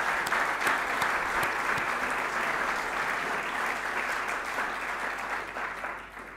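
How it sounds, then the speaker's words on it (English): A hall audience at a Salvation Army harvest festival applauds with dense, sustained clapping that holds steady, then eases slightly toward the end. "just give me a clap again."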